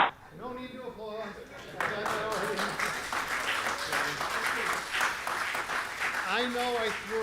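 Audience applause at an active-attack survival training session, a sustained burst of clapping rising after a spoken line from a man, with his voice returning over the fading applause.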